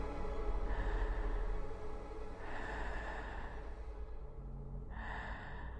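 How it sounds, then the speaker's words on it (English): Close breathing in a creepy ASMR setting, three slow breaths drawn in and let out near the ear, each a soft airy rush over a low steady hum. "Breathing on me."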